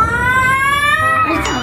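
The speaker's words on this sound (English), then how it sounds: "Musa don't touch the cat" A pet cat gives a drawn-out, rising and falling meow close by in a home in Pakistan, a single vocal call lasting over a second, with faint background voices.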